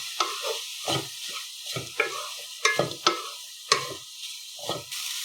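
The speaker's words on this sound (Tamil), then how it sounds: "இப்போ மீடியம் ஹீட்ல வச்சு இந்த பிரானை நல்லா வதக்குங்க" Prawns sizzle gently in a pan over medium heat as a spatula stirs and scrapes in uneven strokes, close up and without any talking.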